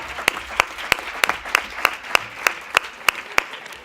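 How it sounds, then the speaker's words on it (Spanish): Steady, evenly spaced hand claps, about three per second, sharp and fairly close, from an audience at a panel session on breast diagnostics. No one speaks over them. "Todavía no le he dado un aplauso a la periodista más guapa de Madrid"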